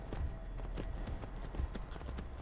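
Horse hooves in the Skyrim video game clip-clop in a steady, quick rhythm of close, distinct strikes, with no talking over them.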